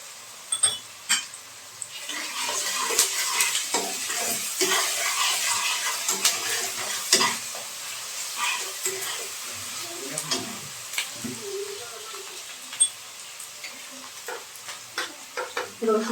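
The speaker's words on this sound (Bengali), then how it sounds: "পেঁয়াজটা হালকা একটু ভেজে নেব।" Onion frying lightly with a little salt in a pan, giving a steady soft sizzle broken by irregular scraping stir strokes, close and moderately loud with no talk.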